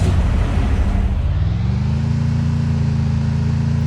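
Vehicle engine in the video game Free Fire, a loud, continuous mid-pitched motor drone whose pitch shifts and settles into a steady hum, with no talking.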